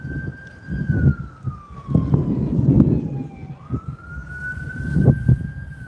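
A fire truck siren wails in a slow rising and falling sweep, moderately loud over a low rumble of engines and traffic, in the city of Hamilton, Bermuda.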